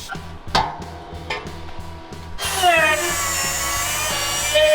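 A power tool works at rivets on an AMC Pacer body, starting with short bursts and separate clanks, then running as a steady, loud whine for the second half.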